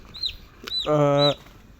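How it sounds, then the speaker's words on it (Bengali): A small chicken chick found by a roadside peeps with a few short, high chirps, close and fairly clear, along with one longer, lower call. "ফেরার পথে দেখি রাস্তার ভিতরে মুরগির বাচ্চাটা"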